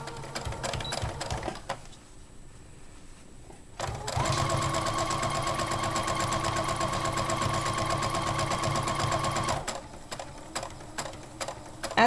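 A sewing machine runs steadily for several seconds while stitching a pant hem, a fast even mechanical whir close by. Quieter handling noise comes before and after the run.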